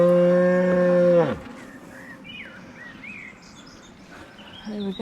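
A cow lows once beside a river, a loud, close, drawn-out moo lasting over a second, followed by quieter outdoor ambience with scattered bird chirps and another low call starting at the end.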